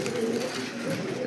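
A pair of racer pigeons coos softly up close, a brief low throaty murmur rising and falling in short phrases with no voices over it.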